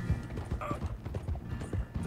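Horse hooves gallop in a steady, fast clip-clop rhythm in the Red Dead Redemption 2 game, close and even throughout, with faint background game sounds.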